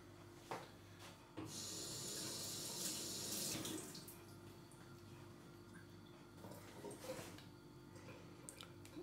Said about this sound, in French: Je rince tout de suite ça.